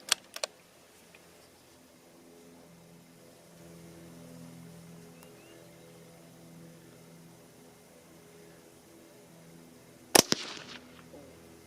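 A single loud, sharp rifle shot from a small .17 Hornet cartridge cracks nearby outdoors near the end, ringing briefly after a long stretch of low, steady hum with a couple of faint clicks at the start.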